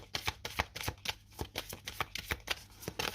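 Tarot cards being shuffled by hand during a horoscope reading, a rapid run of crisp riffling flicks and slaps up close, steady and continuous with no voice.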